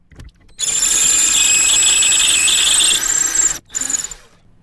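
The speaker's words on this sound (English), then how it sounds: "take my 5mm drill bit and actually go down" Electric drill fitted with a 5mm bit bores through a jig in one loud, sustained, high whining run of about three seconds, then a short second burst after a brief pause.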